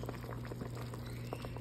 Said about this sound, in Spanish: Ya está hirviendo nuestro caldo